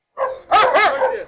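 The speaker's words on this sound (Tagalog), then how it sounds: "Ngayon, nasa tali siya kaya tumatahol." A leashed dog, in a setting with Dogo Argentino and Cane Corso, gives two close, loud barks in quick succession, the second longer and drawn out.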